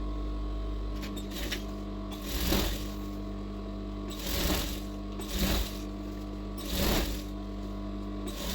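A sewing machine hemming a blouse sleeve gives off a steady motor hum under repeated short whirring stitch runs, close and moderately loud.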